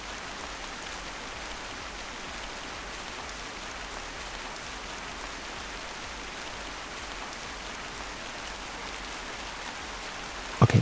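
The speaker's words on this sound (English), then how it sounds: "Okay, I am quiet, but it's completely for the rain sound." Steady rain falls, a dense even hiss that runs throughout with no talk, heard during a long drive, ending on a brief louder knock.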